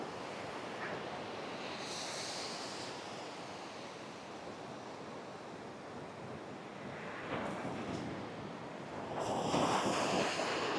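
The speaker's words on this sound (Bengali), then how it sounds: "কি এক বিশাল এক সমুদ্র সৈকত বন্ধুরা" Surf rolls in continuously on Cox's Bazar sea beach, a steady broad wash of breaking ocean waves with wind across the microphone, growing louder and closer toward the end as a bigger wave crashes.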